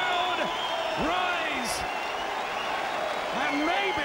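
A boxing arena crowd rises, cheering and applauding loudly and steadily after a world light welterweight title fight, with commentary talking over the noise throughout.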